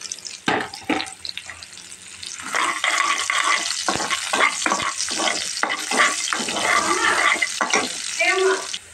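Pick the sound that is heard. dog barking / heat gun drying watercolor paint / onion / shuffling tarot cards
onion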